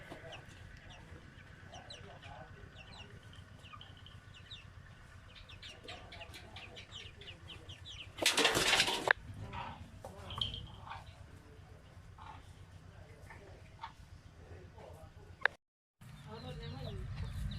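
Chickens cluck intermittently around a rural garden home in Thailand, scattered calls over steady outdoor ambience, with a person talking nearby and a brief loud burst of noise midway.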